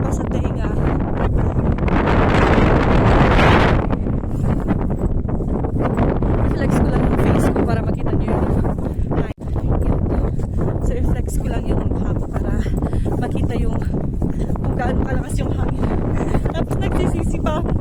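Loud, continuous wind in Madaymen, Kibungan, Benguet, buffeting the microphone, rumbling and roaring throughout with a brief dip near the middle.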